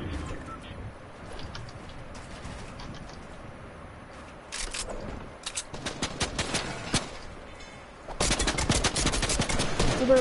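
Video game gunfire crackles in bursts of rapid automatic shots, sparse at first and then a dense sustained volley near the end, loud and close.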